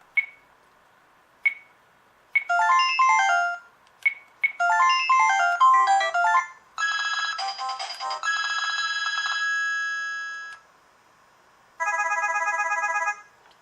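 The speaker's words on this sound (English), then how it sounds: "Let's listen to the ringer tones here." An old mobile phone from a thrift store plays its ringtones one after another: short chirps, then quick beeping melodies and sustained electronic tones, close and clear with silence between.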